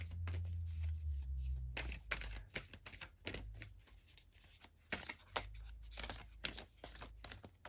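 A deck of tarot cards is shuffled at close range, a run of quick riffling bursts and flicks over several seconds, fairly faint and with no talking.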